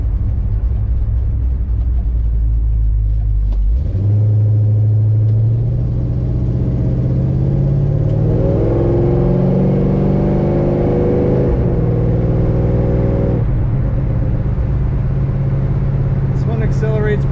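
A 1971 Chevrolet Malibu Convertible engine rumbles steadily, then rises in pitch as the car accelerates strongly while driving, sustained and close, with a person talking over it.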